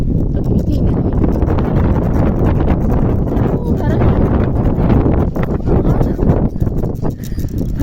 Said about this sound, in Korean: 바람이 이렇게 셉니다.